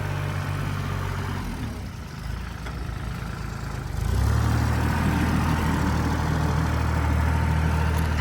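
A 2010-registered Kubota L3408DI diesel tractor engine idles nearby with a steady low rumble that grows louder and heavier about halfway through, then holds at an even level with no talk.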